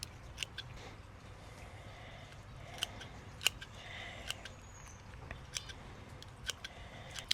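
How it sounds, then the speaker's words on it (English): Sharp, close snips of pruning shears trimming the tops off semi-hardwood plant cuttings in a garden, scattered clicks at irregular intervals over quiet background. "pull all of those off, cut the top off of that."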